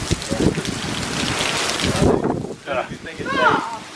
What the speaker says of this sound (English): We got blowing rain off and on.